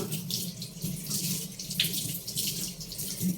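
Tap water runs steadily into a sink while malunggay leaves are washed, a continuous close splashing hiss with slight fluctuations throughout.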